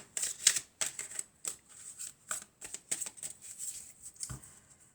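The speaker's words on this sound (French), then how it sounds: "je vais couper. Je vais prendre cette carte et cette carte." A deck of tarot cards is cut and handled close up, with a run of crisp, uneven card slaps and light riffling clicks, quiet between strokes and with no talking.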